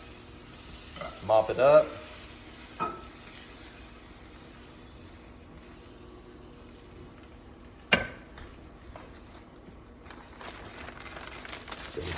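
Food fries in butter in a pan for a simple breakfast, a low sizzle running under a few sharp utensil clanks and a brief spoken remark.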